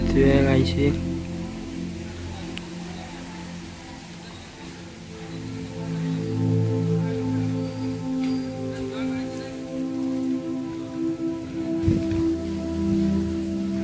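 Heavy rain pours steadily over farm fields, a broad continuous wash of noise with a low rumble underneath and a brief louder burst near the end; voices and background sounds mix in at times.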